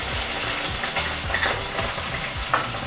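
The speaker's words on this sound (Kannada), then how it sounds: "ಇವೆಲ್ಲನೂ ಸೇರಿಸಿದ ನಂತರ ಲೋ ಫ್ಲೇಮಲ್ಲೇ ನಾವೊಂದು 2 ನಿಮಿಷಗಳ ಕಾಲ ಚೆನ್ನಾಗಿ ಫ್ರೈ ಮಾಡ್ಕೊಳ್ಳೋಣ" Mustard seeds, chana dal and green chili frying in hot oil, with a steady sizzle and occasional stirring scrapes, no voices.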